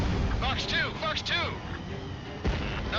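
Missile launch from an F-15 in the jet combat game Ace Combat 7, a sharp burst near the end following swooping engine and radio-like tones, with voices talking over the action.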